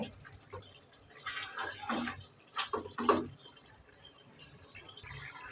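Boiled hot water is poured from a container into a pot of meat and potato curry, giving a few short splashing gurgles over a quiet kitchen background.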